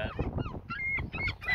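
Seagulls give harsh, honking, laughing calls around a small fishing pier in Whitehaven. The calls come in quick overlapping bursts, fairly close and loud, with no talking.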